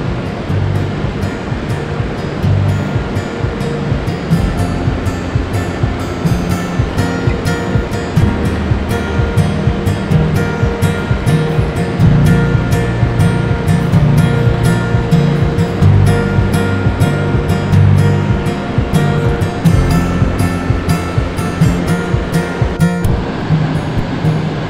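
Mountain creek water rushing steadily down from high country along the Rush Creek trail, a loud, continuous broadband roar of tumbling water close by, unbroken for the whole stretch with no talking.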